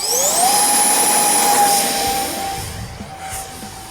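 An XFly A-10 Thunderbolt II RC model jet spools up, a loud, close turbine whine rising in pitch and holding steady before easing slightly toward the end.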